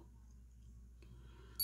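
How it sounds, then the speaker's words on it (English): A 1984 Casio GG-9 golf game watch with module 227 gives a short, high electronic alarm beep near the end, faint and close against quiet room noise. "And can make sure the alarm works."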